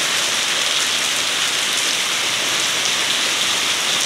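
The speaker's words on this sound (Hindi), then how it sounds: "बहुत ही भयंकर बारिश।" Dense, steady downpour of heavy rain in Dehradun, Uttarakhand, a constant loud hiss of water pounding surfaces with no pauses, and no one speaking.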